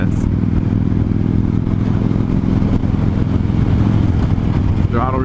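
A 2015 Victory Vegas 8-ball motorcycle engine runs loud and close, a continuous deep throbbing rumble that holds steady throughout, with a rider's voice mixed in.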